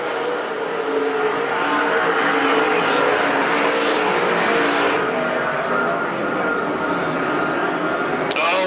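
Super stock race cars roar around the Perris Auto Speedway dirt track in a loud, continuous engine drone that swells and fades as cars pass, under a commentator's voice.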